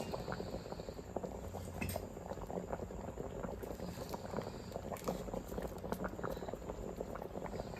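Fish curry with curry leaves boiling in a pot, a steady soft bubbling and popping simmer that stays close and fairly quiet throughout.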